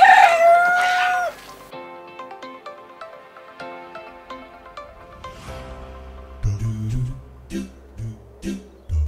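Rooster crowing loudly up close at a community farm chicken coop, followed by a quieter stretch and then bursts of hens clucking, with no talk.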